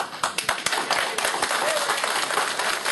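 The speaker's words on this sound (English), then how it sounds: "Don't applaud me, please." Town hall meeting audience applauds in a thick, continuous patter of many hands clapping, loud and close, with some individual claps standing out and voices mixed in.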